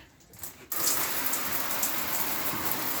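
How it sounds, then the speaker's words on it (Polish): Water switches on abruptly after a brief quiet, then a shower in a Bailey Rangero 470/4 caravan sprays in a steady hissing rush that continues evenly, loud and close. "Jedna, druga działa woda."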